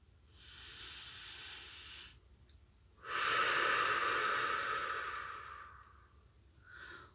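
Deep breaths during a meditation, two long airy inhalations close to the microphone, the second louder and longer, separated by a short quiet pause.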